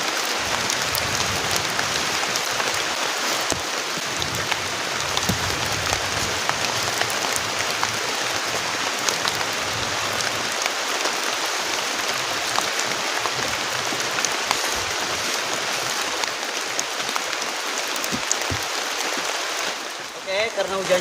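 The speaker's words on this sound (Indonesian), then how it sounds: "karena hujannya deras banget teman-teman, kita harus benar-benar cepat-cepat pasang tendanya" Heavy rain at a campsite falls in a steady, loud wash of hissing drops on surfaces, continuous and close for the whole stretch, with no clear talk over it.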